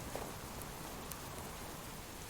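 Rain falling during a thunderstorm, a steady faint hiss of drops spread evenly with a couple of soft taps and no clear thunder, no voices.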